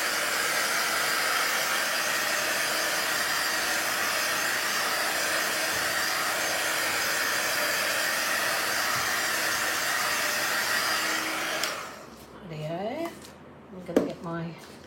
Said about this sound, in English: I'm going to get my little blow dryer